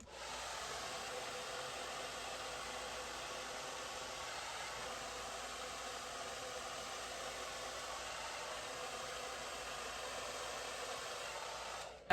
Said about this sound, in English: like shape and smooth with this Conair blow dry brush